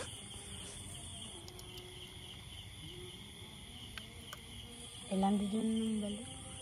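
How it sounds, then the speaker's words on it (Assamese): Frogs calling at night around a camping site, a steady chorus with shrill insect-like trilling held evenly throughout, fairly distant and faint, with a brief murmur of a voice near the end. "এইফালে পূৰা ভেকুলী চেকুলীও মাতি আছে"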